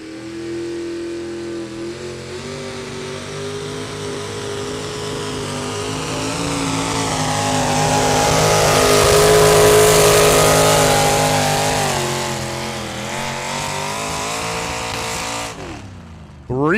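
A pulling tractor's engine roars at a 4-H county fair tractor pull, a loud sustained howl that climbs and swells to a peak near the middle, eases back, then cuts off sharply near the end.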